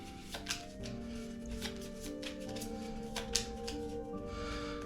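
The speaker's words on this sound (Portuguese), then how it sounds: "Vamos então baralhar o baralho da segunda era." A deck of cards for a Lord of the Rings: Duel for Middle Earth board game is shuffled nearby, giving soft, papery riffling and tapping over a steady low background hum, with no talking.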